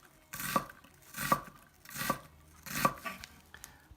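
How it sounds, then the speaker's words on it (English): A kitchen knife dicing onion on a cutting board, four evenly spaced chopping strokes about three-quarters of a second apart, close and crisp, with no talk. "Then you follow the exact same cut as the last one, the rainbow, and you have perfect diced onions."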